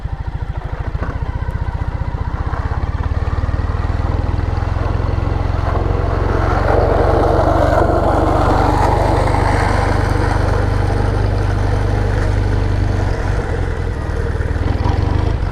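A Triumph Thruxton 900 motorcycle engine running while being ridden, a loud close low rumbling drone with a throttle rise early on and a steady pull after, mixed with wind noise and no speech.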